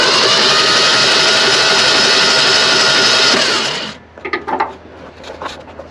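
Classic Ford F150 engine, sitting unused for over 29 years, cranking and firing: a loud, continuous mechanical roar for about four seconds that cuts off abruptly, leaving quieter clatter and handling noise.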